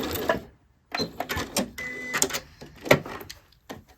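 A home sewing machine stitching a child's tie from fabric scraps and finishing with a back stitch, giving short mechanical bursts of whirring and clicking with brief pauses, close and fairly loud.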